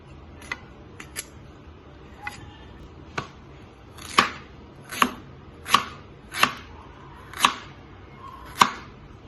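Ginger being sliced into large pieces on a cutting board, a series of about a dozen crisp knife chops, sparse at first, then louder and evenly spaced near the end, close up with no talking.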